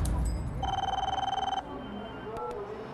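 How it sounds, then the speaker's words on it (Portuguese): A telephone rings in a burger restaurant, a bright electronic trill sounding once for about a second, clear and close with background noise around it. "Telefone."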